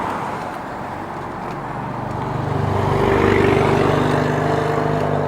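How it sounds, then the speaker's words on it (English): A Subaru with a flat-four engine passes nearby, its burbling exhaust rumble swelling louder midway and then easing off slightly, with no talking over it. "That must be a Subaru. It sounds funky."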